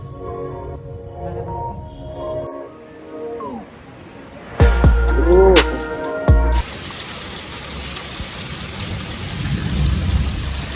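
Steady rain hisses throughout, with a louder burst of crackling and rumbling midway that suggests thunder, then the downpour continues.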